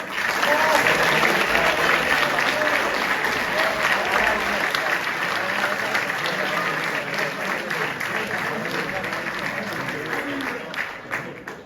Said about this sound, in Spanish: A ver cómo suena ese aplauso atronador para unos padres irrepetibles, Miquel y Valerie